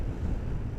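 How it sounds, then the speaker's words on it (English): Strong wind roars over the microphone of a motorcyclist on a high Changtang plateau in China, a dense continuous low rumble filling the whole brief moment with no voice. "Pretty windy."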